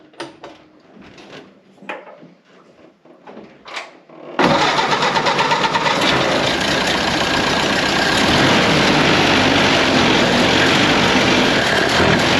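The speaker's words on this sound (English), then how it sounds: "Well, I guess let's see if this thing will start." Clicks and brief rattles come first, then the dual-carb engine of a Model A Ford hot rod fires up abruptly and settles into a loud, steady close-up idle that holds to the end.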